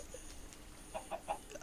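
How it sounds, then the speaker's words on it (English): Blocky chickens in Minecraft, in the Stoneblock 2 modpack, give a few short, quiet clucks in quick succession inside a large room, set over a faint steady background hum. "We made a huge room to make the chickens in."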